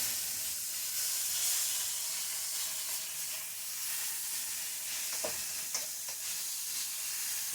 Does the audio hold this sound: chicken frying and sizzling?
yes